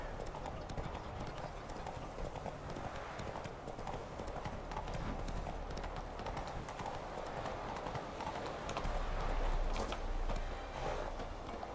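Horse hooves clip-clop at a steady trotting rhythm throughout a ride across the countryside in The Witcher 3 video game, continuous and fairly close, with a faint voice underneath.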